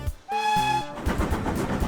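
A steam locomotive on a heritage railway sounds a short, clear whistle blast, bright and tonal, followed by chuffing and rumbling from the train, with no voices.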